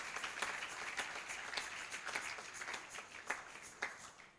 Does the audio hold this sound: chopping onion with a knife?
no